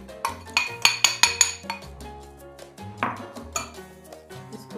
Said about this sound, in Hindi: अब हम बीटर की मदद से इसको बीट करेंगे।